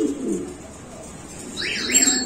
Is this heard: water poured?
no